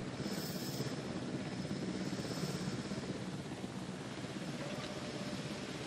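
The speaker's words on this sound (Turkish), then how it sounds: "Şu helikopterin tipi yeter." A helicopter in the Jurassic World Evolution video game gives off a steady, dense rotor and engine roar that holds evenly for the whole stretch, with no talking.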